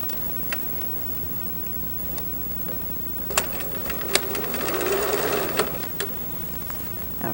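Sewing machine stitching a garment seam through the facing, pocket bag and front panel, a steady low mechanical run with faint ticking clicks, holding fairly even throughout with a slight swell toward the end.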